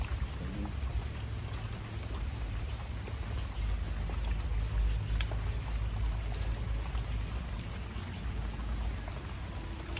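Heavy rain falls steadily in a rural Thai outdoor setting, a dense continuous wash of drops with a low rumble underneath, constant in loudness and with no voices.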